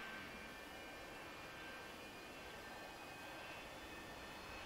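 An A-4 Skyhawk jet engine running after start-up in the DCS flight simulator, a steady broadband whine and hiss holding constant throughout, with thin high tones above it and no speech.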